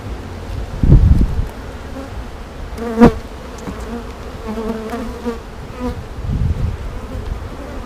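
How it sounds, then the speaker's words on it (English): A dense, steady buzz of many honeybees at a hive fills the scene, with a few louder passes as individual bees fly close to the listener. "It's just a whole bunch of bees hanging out, eating some free food."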